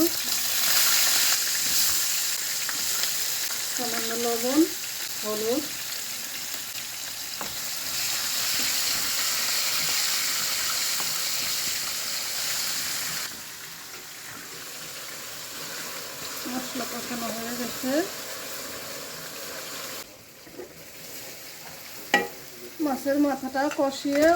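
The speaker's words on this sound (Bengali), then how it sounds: "এখন আলুটা ভেজে নেব" Potatoes frying in a pan as a cabbage and fish-head dish is cooked: steady sizzling and stirring throughout, with a voice talking over it at intervals.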